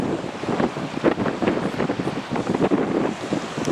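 Gusty wind blowing by the sea, a steady, close rushing roar with rising and falling surges.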